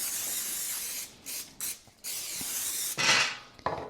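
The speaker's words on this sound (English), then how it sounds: "I'm going to spray it with a light coating of cooking spray." Cooking spray hisses from an aerosol can onto meat on a wire rack before grilling, in several close, loud bursts of varying length with brief gaps between them.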